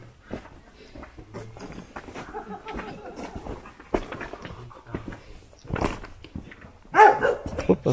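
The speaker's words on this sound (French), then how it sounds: "bon, ça aboie" Dogs bark at night around an abandoned village inn, in irregular bursts that grow louder toward the end, mixed with footsteps and shuffling, with no clear speech.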